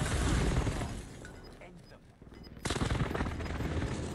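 Gunfire during sniping in an online shooter video game, a dense loud rattle of shots at the start, a brief quieter lull with faint distant pops, then heavy firing resumes loudly to the end.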